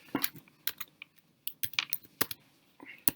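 Typing on a computer keyboard, irregular bursts of sharp key clicks in quick clusters with short pauses, close and fairly clear, no talking.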